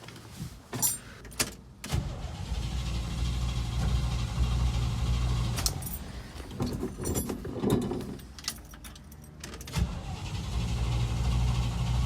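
A 1986 Chevy C20 square-body pickup, its fuel system just repaired, cranks and fires into a rough running idle after some clicks and clunks, a loud close engine drone broken by brief bursts and noises.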